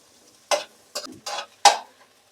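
Finely chopped carrots stir-fried in a pan over a high flame, four separate scraping, clattering strokes of a spatula, close and distinct, with near silence between them and no talking.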